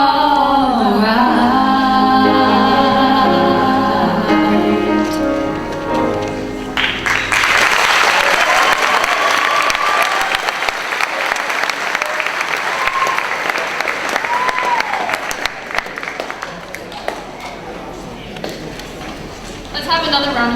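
Music with singing fades into a burst of loud audience applause at a high school class day, the clapping sustained and dense, tapering slightly near the end.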